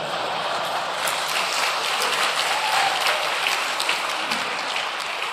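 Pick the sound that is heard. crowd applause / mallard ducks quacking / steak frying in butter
crowd applause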